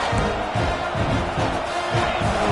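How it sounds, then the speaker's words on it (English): A football stadium crowd roars in a steady, dense wash of cheering and noise, loud and continuous with no single voices standing out. "this crowd is fired up. Listen to this noise here"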